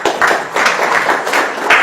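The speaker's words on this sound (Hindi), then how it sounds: "एक बार ताली होना चाहिए।" An audience applauding for Professor Ken Vasupal, a short burst of close, loud hand clapping in uneven rhythmic waves.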